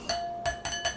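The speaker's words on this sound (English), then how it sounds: "Let's have the whisk again." A whisk clinks against a bowl while beef bouillon is stirred for Salisbury steak: three or four bright metallic taps in a quick, uneven rhythm, close and fairly clear, with no talk.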